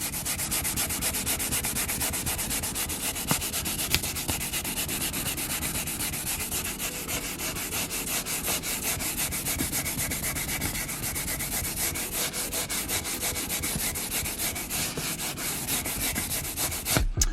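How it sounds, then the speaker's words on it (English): Sandpaper rubs over a damaged leather car seat in steady, continuous back-and-forth strokes, loud and close with no pauses and no talking. "we'll go ahead and sand the area"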